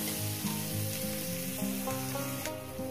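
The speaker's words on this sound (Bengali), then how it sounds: "পেঁয়াজটাকে আমি সুন্দর করে ভেজে নিয়েছি বন্ধুরা" Onions fry in a pan for a spinach and mourala fish dish, giving a steady sizzle with a continuous musical backing over it.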